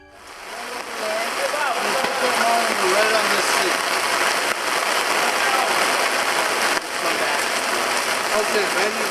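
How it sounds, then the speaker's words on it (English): Steady, dense hiss of heavy rain pouring down, continuous and loud throughout, with faint voices mixed underneath. "Downpour,"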